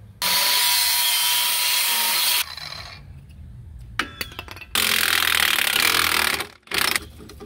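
A power tool cuts through a rotted sway bar bracket on a Jeep Cherokee XJ rear end. Two long, loud grinding bursts and a shorter final one are separated by quieter clattering and tapping, close up with no speech.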